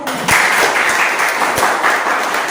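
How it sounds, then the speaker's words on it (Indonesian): Students applauding in a school classroom lesson, a fairly loud, continuous burst of hand clapping lasting a couple of seconds, close and steady with no talk over it. "Ya, tepuk tangan ya"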